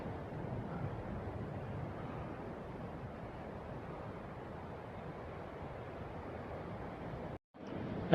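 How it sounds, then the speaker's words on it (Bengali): Sea waves roar near the sea mouth of Chilika lake, a steady, continuous broadband wash, close and fairly loud with wind mixed in, with no talking and a brief drop-out just before the end. "এখান থেকে সমুদ্রের গর্জনও পাচ্ছি।"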